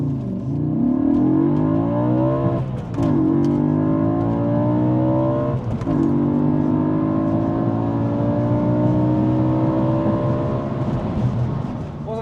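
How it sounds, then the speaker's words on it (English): A 440 bhp Audi RS4 launches hard from inside the cabin. The engine over-revs and bogs, then climbs through three rising, roaring gear pulls, each broken by a brief dip at the shift. The loud, sustained drone stays close throughout. "so I kind of over revved there and then it kind of bogged down"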